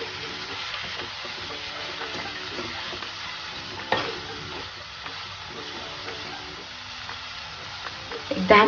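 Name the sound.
dal methi vegetables cooking in pan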